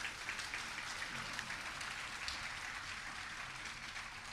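Audience at a Jain religious discourse during the Dashlakshan festival in Udaipur clapping: a sustained, dense patter of applause from many hands, fairly distant and even, with no speech over it.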